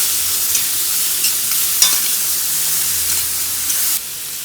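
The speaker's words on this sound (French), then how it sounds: "On va rajouter l'oignon et le thym. Bien faire revenir." Onion and thyme sauté in a pan, giving a bright continuous hiss and sizzle with a few small pops and a spatula scrape, close and fairly loud, easing slightly near the end; no one speaks.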